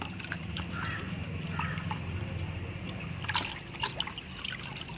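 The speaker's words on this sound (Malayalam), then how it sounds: "നമുക്ക് ഞാൻ വെള്ളം കളയാം" Water being poured off a freshly cleaned brass lamp, a steady trickling splash that runs continuously with a few small knocks and clinks of metal, close by.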